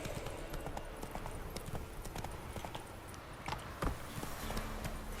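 Roach, a horse in the video game The Witcher 3, clip-clops along with a steady stream of hoofbeats over game ambience, with no one talking.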